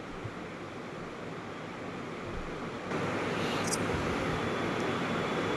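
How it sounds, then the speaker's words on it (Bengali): Onions frying in a pan with a little salt: a steady, broad hiss of sizzling that grows slightly louder about halfway through, close and continuous with no talking. "এবার ভালো করে পেঁয়াজটা আমি ভেজে নিচ্ছি।"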